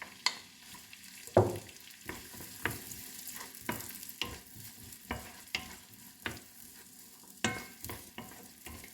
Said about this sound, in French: Je veux sauter un petit peu l'oignon.